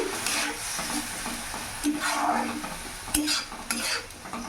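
Spice masala with Kashmiri chili powder and green chili sautés in a pan, frying with a steady sizzle while a spoon scrapes and stirs in uneven strokes, close and alone.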